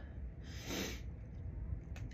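A single allergic sneeze in the morning, a sharp breathy burst rising to a peak then trailing into snuffling breath, close and fairly quiet with no talk.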